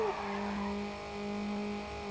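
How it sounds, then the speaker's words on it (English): Tire squeal from a drifting car in Need for Speed: Underground, a steady high screech held over a continuous engine drone, close and loud for about two seconds. "I got some style points for that little weak drift I did"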